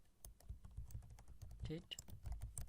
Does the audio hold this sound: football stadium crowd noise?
no